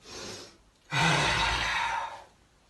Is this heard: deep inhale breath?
yes